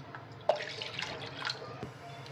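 Water is poured into a pan for cooking varai flour, a soft trickling splash starting with a brief bump and continuing quietly and close by.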